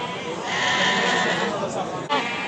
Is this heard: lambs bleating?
yes